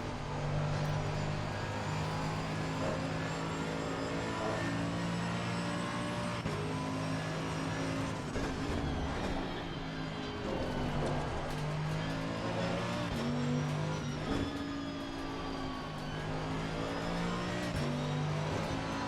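A BMW race car circles a track, its engine holding a steady, layered drone with shifting harmonic tones as it pulls out of corners, loud and continuous throughout.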